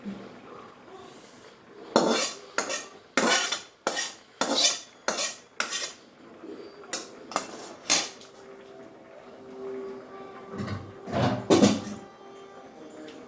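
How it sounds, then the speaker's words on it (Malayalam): Roasted coconut paste goes into a pot of varutharacha sambar and is stirred in, giving a series of sharp metallic spoon clinks and scrapes against the pot, loud and close, in irregular bursts with quieter gaps. "ഇനി നമുക്കത് കറിയിലേക്ക് ഒഴിച്ചു കൊടുക്കാം."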